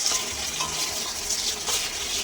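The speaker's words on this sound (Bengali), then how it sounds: "আমি ভালো করে ফুলকপিগুলোকে ওই মাছ ভাজার তেলেতেই ভেজে নিচ্ছি" Cauliflower florets, seasoned with salt and turmeric, fry in oil left over from frying fish, giving a dense, continuous sizzle close up with soft stirring swells.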